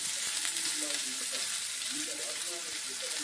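Spinach and onion frying in a pan for a Palak majjige huli, a steady soft sizzle with faint stirring scrapes running throughout, close and fairly quiet.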